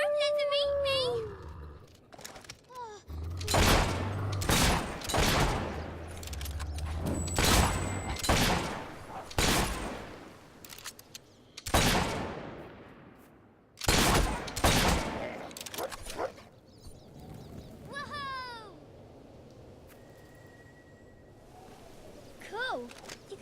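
Gunfire in the video game Fable III: several loud bursts of shots crack out in clusters, mixed with game voices and background sound effects.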